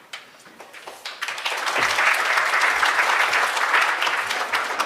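An audience at an award and induction ceremony breaks into applause, starting with a few scattered claps and swelling into sustained, dense clapping that fills the room.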